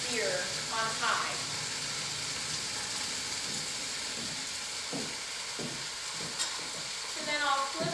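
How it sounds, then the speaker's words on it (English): Meat searing in a hot pan on high heat for stroganoff, a continuous close sizzle and hiss with occasional scraping clicks, a voice talking over it. "you just leave it in the pan to get that really good sear on high"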